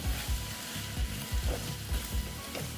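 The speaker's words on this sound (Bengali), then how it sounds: "এই বেসনটা আমি এখানে অ্যাড করে দেবো করে এটার সঙ্গে এটা মিক্সড করে দিই" Fried gram flour being stirred into okra frying in a pan, a steady sizzle with regular scraping strokes of a spatula about every half second, close and moderately loud, with no talking.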